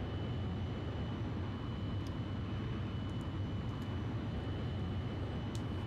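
A fighter jet idles on the runway in Ace Combat Zero, a steady, even engine roar with a constant whine and occasional faint high clicks, no voices.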